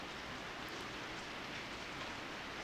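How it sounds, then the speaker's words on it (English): Steady pouring rain hisses as an even, dense wash of noise, with no breaks and no voices, heard as ambience in the Corpse Party: Book of Shadows game. "It was still pouring rain"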